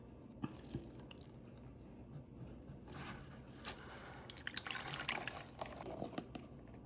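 Liquid drips and trickles from fresh curd cheese draining through cheesecloth into a tray, a soft patter of wet drops that grows busier partway through, faint and close, with no talking.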